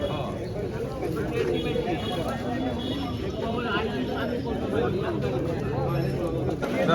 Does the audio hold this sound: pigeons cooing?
yes